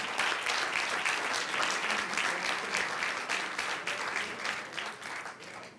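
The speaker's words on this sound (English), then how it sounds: "Let's give him a big round of applause." Warm applause at a school board meeting for a first grader, a roomful of clapping hands, moderately loud and steady, fading slightly toward the end with no voices over it.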